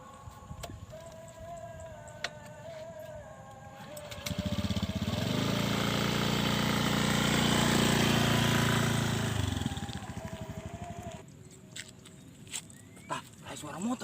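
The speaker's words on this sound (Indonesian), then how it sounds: "ada suara motor" A motorbike engine swells from a distance, roars loudly close by for several seconds, then fades away, with a dog barking and voices before and after.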